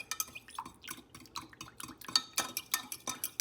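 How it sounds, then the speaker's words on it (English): A fork whisks ingredients together in a dish for homemade pretzels, a rapid, close run of light clinking taps and scrapes against the bowl in an uneven but steady rhythm. "So I'm just gonna get a fork to whisk it together."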